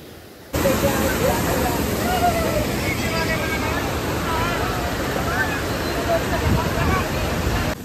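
Forceful water pours steadily at Vyaghreshwar waterfall near Kasmal, Pen, a dense continuous roar that starts abruptly and holds loud and close, with faint voices of people in the background.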